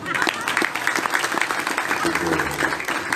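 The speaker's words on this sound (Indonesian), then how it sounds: "Tepuk tangan jangan tanggung apa." Audience applauding during a religious lecture, a moderate patter of many hands clapping with talking voices underneath.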